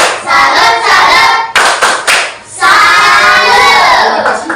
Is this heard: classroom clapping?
yes